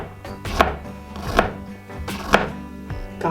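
Garlic chopped with a knife on a board, four evenly spaced loud thuds, close and alone.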